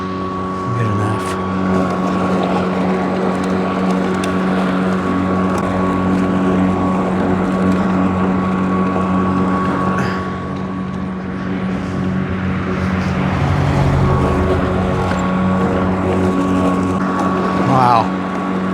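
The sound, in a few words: lawn mower engine running while mowing grass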